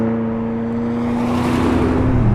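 Supercharged Camaro ZL1 1LE called the Exorcist, with a steady engine drone and sustained harmonic tones building slightly in loudness as it accelerates, close and continuous with no talk.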